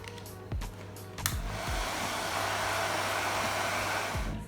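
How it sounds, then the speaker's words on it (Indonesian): A hair dryer blows on freshly dipped purple-cabbage litmus paper strips in an acid-base indicator experiment. A few clicks come first, then a loud, steady, close-up whooshing roar runs without talk. "kemudian kita keringkan dengan hair dryer"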